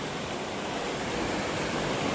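Steady, dense rush of the Saraswati river flowing close by at the ghat in Prachi, continuous and unbroken with no voices.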